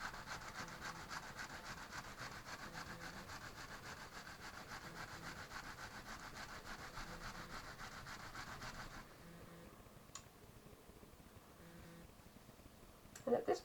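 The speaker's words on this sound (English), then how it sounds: "now we'll do our final 90-degree turn from this side, rolling the piece up again" Wool felt being rolled up by hand during feltmaking, a steady continuous rubbing and rolling sound that runs for most of the stretch before dropping to quieter handling with a few small knocks at the end.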